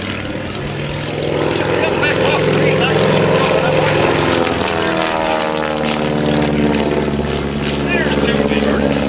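An aerobatic propeller airplane flies a hammerhead turnaround at the 2010 New Garden Airshow, its engine droning loud and continuous with shifting pitch as it climbs and turns, while an announcer talks over the sound.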